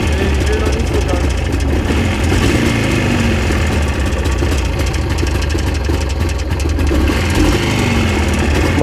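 A motorcycle with a sidecar idles nearby with a loud, steady, low rumbling engine that runs throughout, while voices talk over it.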